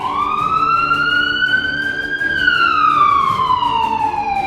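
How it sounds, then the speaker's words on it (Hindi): Sirens wail across Sevastopol, Crimea: a loud, steady tone that rises smoothly, peaks, then slowly falls, with faint traffic rumble underneath. "इस वक्त सायरन बज रहे हैं।"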